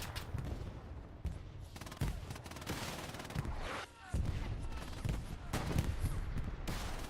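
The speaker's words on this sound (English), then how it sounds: "Shots going off everywhere." Dense, continuous gunfire from the World War II shooter Hell Let Loose during a competitive winter match, with overlapping rifle and machine-gun bursts, a short lull midway, then more rapid firing near and far.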